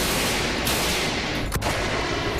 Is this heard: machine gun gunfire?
yes